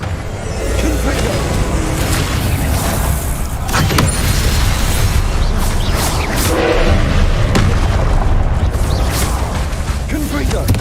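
Repeated Confringo blast spells burst in the Hogwarts Legacy video game: several loud, close thumping explosions spaced out over a busy, rumbling battle background, with voices now and then.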